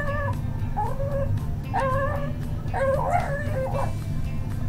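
A dog whines and yelps in a series of high, wavering vocalizations over a low background hum, growing more agitated toward the end.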